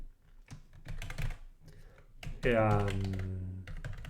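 Typing on a computer keyboard while filling in an online account registration form: quick, close clusters of key clicks in short bursts, with someone talking in between and partly over them.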